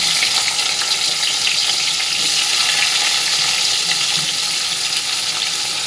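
Sliced onions frying in plenty of mustard oil with dried red chillies and nigella seeds in a wok, giving a loud, steady, close hissing sizzle that continues unbroken throughout.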